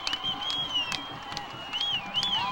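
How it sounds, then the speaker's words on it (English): A high school football crowd in San Dimas roars as the Saints take the field at night, a steady dense crowd wash with whistles and scattered shouts throughout. "And listen to the crowd roar."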